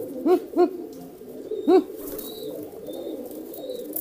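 A pigeon coos close by, three soft rounded calls early on, then quieter background with faint distant chirps.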